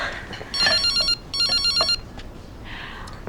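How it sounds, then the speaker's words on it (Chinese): A telephone rings indoors at home in two loud, trilling bursts separated by a short pause, followed by quieter room sounds. "接个电话。"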